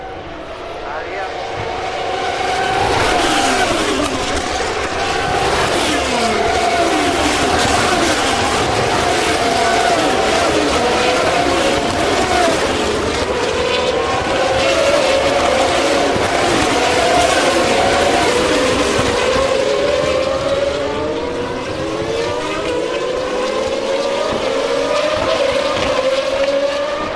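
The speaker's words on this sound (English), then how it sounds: "That's pretty much the entire grid going by in one block of traffic." A whole field of race cars sweeps past on a racetrack in one tight pack, their engines a loud, sustained overlapping roar with rising and falling pitches as each car passes close by.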